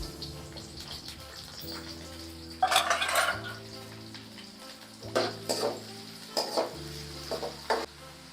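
Cumin, curry leaves and onion fry in about half a cup of hot oil for a North Karnataka-style oil brinjal dish. A soft steady sizzle runs underneath, with intermittent clinks and scrapes of a utensil stirring the pan.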